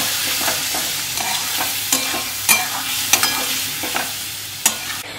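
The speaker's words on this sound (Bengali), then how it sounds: "পেঁয়াজের সাথে আলুটাকে একটু ভালো করে ভেজে এর মধ্যে আমি একটু নুন দিয়ে নেব" Potato and onion stir-fried in a pan, a spoon scraping in repeated, uneven strokes over a constant close sizzle, with no talking.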